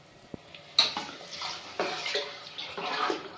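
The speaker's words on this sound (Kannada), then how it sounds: "ಈಗ ನಮಗೆ ನೀರು ಹಾಕ್ಕೊಳ್ಳೋಣ." Water poured into a pan of curry masala cooked in oil for avarebele saaru, a short splash then uneven gushing and sloshing bursts, close and fairly quiet, with no talk.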